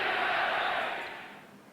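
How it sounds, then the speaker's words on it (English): Boston Garden crowd at a 1986 Celtics game roaring and chanting, a broad, loud wash of massed voices that swells and then gradually fades toward the end. "The crowd is starting to chant "Beat LA.""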